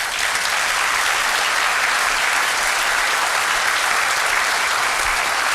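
Dense, steady applause from a church congregation fills the space, loud and continuous throughout with no voices standing out.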